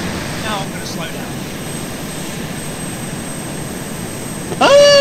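An aircraft approaches to land in the military game ARMA 2, its engine a steady, even drone throughout, with short voice-like tonal bursts near the start and a louder swell at the very end.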